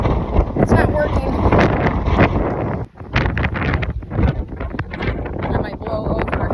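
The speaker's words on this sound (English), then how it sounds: "Wow, it is a beautiful, super windy day." Strong wind buffeting a microphone outdoors on a walking path, loud rumbling gusts with a brief lull midway, while a person talks underneath.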